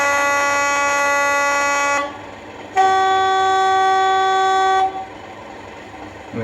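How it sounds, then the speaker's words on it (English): An Accurascale Class 37/6 model locomotive sounds its horn: a sustained lower two-tone blast for two seconds, a short pause, then a higher steady tone for about two seconds, loud and close. "have a short low horn and a short high horn, and then also a sustained one"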